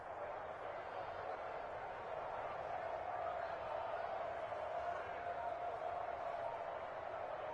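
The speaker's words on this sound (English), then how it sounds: "And the home crowd applauding." A home crowd applauds in a PS4 football video game, a steady, even wash of clapping and crowd noise filling the whole stretch without a break.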